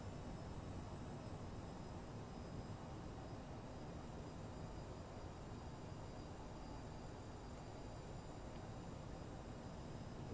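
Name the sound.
CRJ550 jet engine power increasing, Microsoft Flight Simulator video game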